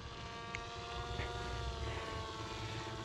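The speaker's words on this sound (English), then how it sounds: "You can hear the rotor speed up like crazy." A radio-controlled Magnus effect trike whirs steadily at a distance, its rotor droning with a sustained tonal hum that holds fairly even, with no voices.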